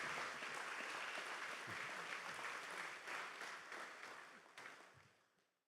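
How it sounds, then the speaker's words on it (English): Audience applause for the athletic staff at a Hall of Fame induction ceremony, a steady dense wash of clapping from a large crowd that holds for several seconds, then thins and fades out. "let's give them a round of applause as well"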